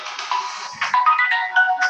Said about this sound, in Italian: il cellulare.